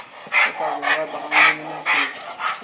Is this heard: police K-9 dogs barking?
yes